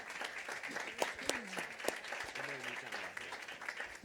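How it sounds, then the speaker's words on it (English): An audience at a climate-action panel event gives a final round of clapping for the panelists and moderator, moderately loud with some distinct nearby claps, while faint voices murmur underneath. "A final round of applause for our panelists and our moderator here."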